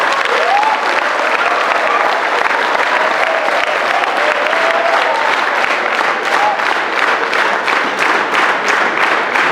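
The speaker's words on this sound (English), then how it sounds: "I would lastly request everyone to give the biggest round of applause for an extraordinary performance." Debate competition audience at a school's senior inter-house English debate giving a big round of applause, loud, dense and sustained clapping across the whole stretch, with faint voices and cheering mixed in.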